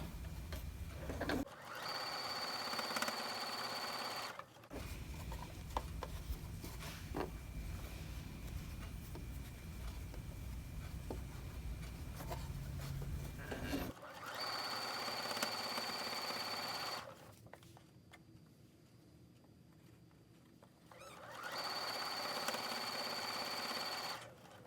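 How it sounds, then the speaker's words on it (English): Sewing machine stitching fabric pieces for wonky star quilt blocks, a steady fast whirring chatter in several long runs separated by brief pauses, close and loud with no talking. "So I'm just going to keep going through and stitching these."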